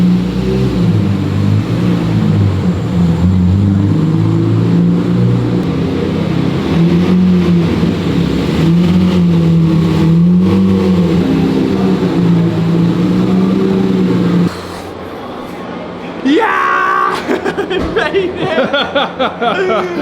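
Lamborghini Murcielago V12 engine droning loudly and steadily while driving toward London on the Gumball 3000 rally, then dropping off sharply as a voice cries out over the quieter cabin.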